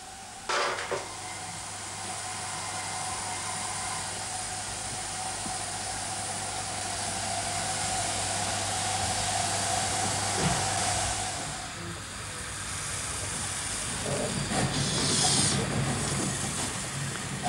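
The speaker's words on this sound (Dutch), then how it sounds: "Een ruimte vol stoom, want een stoomlocomotief staat klaar voor een proefritje." A steam locomotive in a steam-filled shed, ready for a test run, gives a continuous hissing wash with a steady low hum and occasional metallic clanks, heard from moderate distance.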